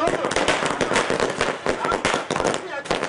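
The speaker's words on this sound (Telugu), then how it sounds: "స్వీట్లు పంచుకుని టపాసులు పేల్చి సందడి చేశారు." Firecrackers burst in rapid, overlapping cracks as TDP party workers and leaders celebrate in Andhra Pradesh. The dense, loud crackling runs the whole time, with a voice talking over it.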